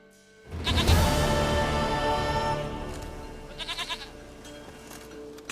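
Goat in The Witcher 3 game world letting out a loud, close bleat that trails off, followed by a shorter, fainter quavering bleat a moment later.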